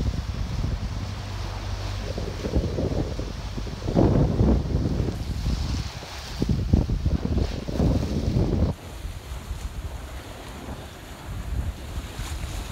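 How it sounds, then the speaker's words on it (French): Strong wind of about 20 knots roars steadily over a sailboat at sea between Greek islands, with loud buffeting gusts and wind noise on the microphone and waves washing around the hull. "Voilà, 20 nœuds de vent."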